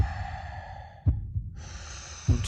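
Deep breaths drawn and pushed out through the mouth during a rebirthing breathwork session, with two or three audible rushes of air set against soft sustained music.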